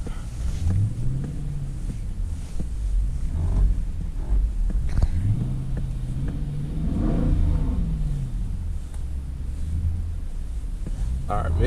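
A loud rear-wheel-drive Dodge Durango RT drifts in snow, its engine revving up and down in long rising and falling sweeps under steady wind buffeting and rumble.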